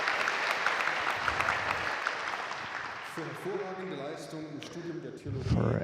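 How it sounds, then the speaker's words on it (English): Audience at a graduation ceremony applauding a theology prize winner, steady dense clapping that fades over the first seconds as a voice begins speaking over the tail end. "I want to ask for applause for Martin Lindner"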